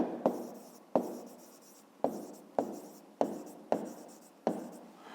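A pen or pencil writes digits by hand on paper, seven crisp strokes landing at a fairly regular pace, close and quiet, each tapering off before the next.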